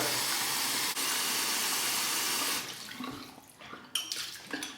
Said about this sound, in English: Just let it run under the hot water for a minute or so it absorbs that warm temperature.